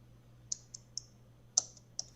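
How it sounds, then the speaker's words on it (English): A computer keyboard's shift key tapped repeatedly, six crisp, faint clicks at uneven intervals over a quiet background hum. "Try multiple times tapping the shift key on your keyboard"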